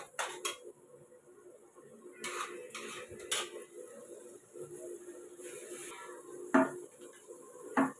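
A spatula scrapes and clinks against a pan as masala is sautéed in oil on a home stove, a run of close metallic taps and stirring strokes with a low hum beneath and no voices.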